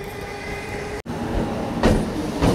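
A Sealdah–Hasnabad local train rumbles steadily, heard from aboard near Dum Dum station, with a brief cut in the noise and then louder clattering surges toward the end.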